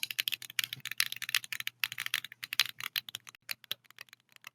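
Rapid, close-up clacking of computer keyboard keys, a dense irregular stream of sharp taps that thins out toward the end.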